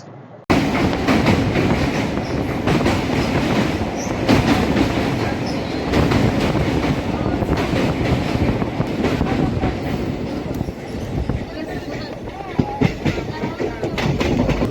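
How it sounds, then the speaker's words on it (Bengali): The Kanchanjangha Express pulls slowly out of New Jalpaiguri (NJP) station, heard from inside: a continuous loud rumble with rhythmic wheel clatter and rattling carriages, a faint murmur of voices mixed in. "এখন ধীরে ধীরে এনজিপি স্টেশন থেকে বেরিয়ে যাচ্ছে আমাদের ট্রেন।"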